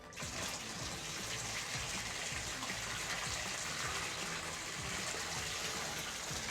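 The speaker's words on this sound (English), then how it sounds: "now, when I turn my water back on, it won't go past that" Water gushes steadily from a Delta faucet that has just been turned back on, a loud, even rushing stream close by that holds constant throughout, with no voices.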